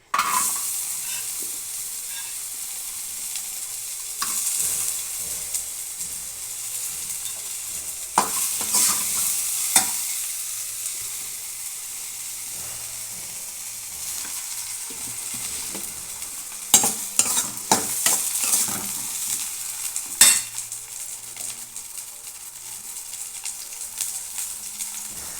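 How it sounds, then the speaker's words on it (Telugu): Onions fry in oil in a pan while being stirred, with a constant soft sizzle broken by scraping and clinking bursts from the spoon. "ఇప్పుడు ఉల్లిపాయలు వేయించుకుందామండి"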